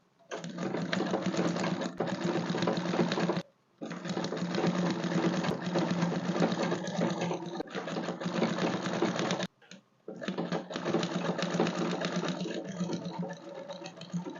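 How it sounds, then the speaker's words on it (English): A sewing machine stitches down a folded skirt hem in a close, continuous mechanical whir with a fast rhythmic clatter, briefly stopping twice before running on again. "and I'll sew it down"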